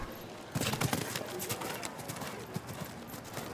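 Hooves of a mare on a show jumping course thud and clop in a steady running rhythm at moderate distance, under a spread of crowd and arena background noise.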